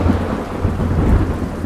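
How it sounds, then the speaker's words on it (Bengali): Loud thunderclap rolling over falling rain, a deep sustained rumble up close with steady rain hiss beneath and no voices. "হঠাৎ আকাশ আলো করে একটা জোর বাজ পড়ার শব্দে পুরো বাড়ি বিদ্যুৎহীন"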